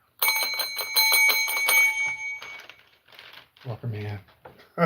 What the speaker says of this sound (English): That's the only ding dong that we give out over here.